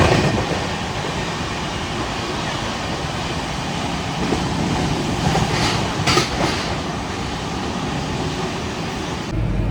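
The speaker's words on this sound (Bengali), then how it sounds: "এখন আমাদের ট্রেন ছেড়ে গেল হাওড়া স্টেশন থেকে" A train pulling out of Howrah station, running with a steady broadband rumble and faint rhythmic wheel clatter on the rails, heard from inside a near-empty coach, continuous and fairly loud throughout.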